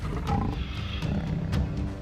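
A dominant male lion gives a deep, loud roar close by, a rough rumbling call that swells and holds for about two seconds with no other sound over it.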